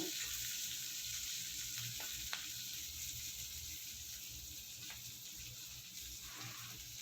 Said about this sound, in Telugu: కాస్త ఆనియన్ ఫ్రై అయ్యాక కొద్దిగా పచ్చిమిర్చి, కరివేపాకు వేసుకొని ఇది కూడా బాగా ఫ్రై చేసుకోవాలి